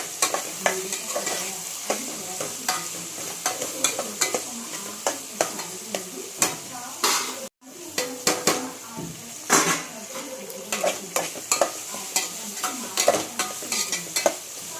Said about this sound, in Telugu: ఇప్పుడు మొత్తం కూర ముక్కలన్నీ కలిసేటట్టు తిప్పండి.